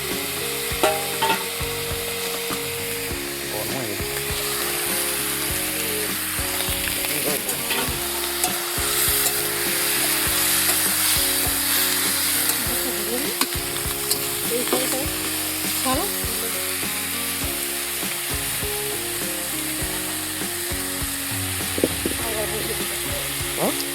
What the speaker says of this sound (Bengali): দুটো উনুন জ্বালিয়েছে, দুটো কড়া বসিয়েছে, একটা মাছ ভাজা হচ্ছে